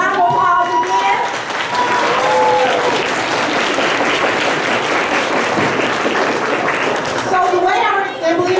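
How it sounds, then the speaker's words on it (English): A middle school assembly crowd claps loudly and steadily for student legacy leaders, sustained applause with voices audible at the start and end. "Give them a round of applause again"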